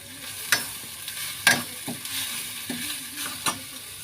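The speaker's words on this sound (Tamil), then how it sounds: "சாதத்தை வடிச்சிட்டு இதோட சாதத்தை சேர்த்துக்கோங்க." Cooked rice is tipped into a pan and stirred for mango rice, giving a few scraping clinks and soft shuffling stirs spread over four seconds, close and moderately quiet, with no voices.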